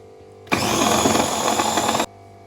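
A food processor whirs loudly and steadily for about a second and a half, blending butter with rose water for a spinach cake batter, starting and stopping abruptly with no talk over it.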